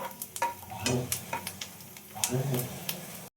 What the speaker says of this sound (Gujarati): અંદર સુધી તળાઈ જાય ત્યાં સુધી તળવાનો